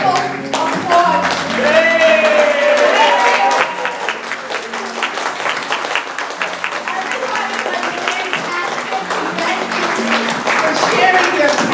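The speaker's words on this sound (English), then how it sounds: "whole dance group a wonderful applause" An audience applauds a dance group at a variety show, with sustained, loud clapping and crowd noise while music with a melodic line plays and voices call out over it.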